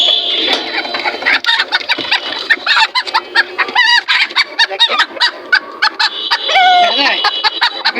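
Chickens clucking and squawking in quick bursts, close and loud, with honking calls mixed in and some birds overlapping.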